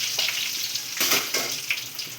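Curry leaves, turmeric and asafoetida sizzle in hot oil with puffed rice being toasted, a soft continuous crackling hiss with a few brighter bursts, heard up close without talk.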